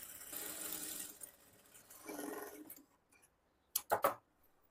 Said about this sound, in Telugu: ఇప్పుడు ఇక్కడ నుంచి ఒక పావు ఇంచు మార్జిన్ ఉండేలాగా స్టిచ్ చేసుకోవాలి